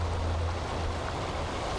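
Typhoon floodwater flows through a city street in Pasig, a steady, rushing wash of water with a low rumble underneath, constant and fairly close.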